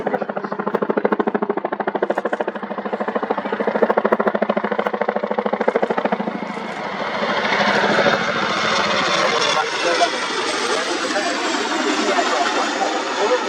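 An RAF Chinook twin-rotor helicopter manoeuvres in a descent at an air show, its loud rhythmic rotor thump and engine roar rising into a broad whooshing rush, with a commentator speaking over it.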